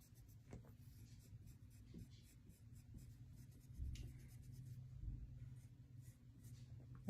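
A marker scratching and rubbing across fabric while shading a painted apple, soft close strokes repeating in a steady back-and-forth rhythm, quiet throughout.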